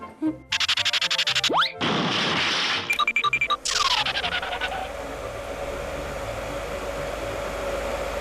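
A hair dryer in a cartoon scene, switched on in short bursts amid clattering cartoon effects, then settling into a steady loud whirring blow that runs on to the end.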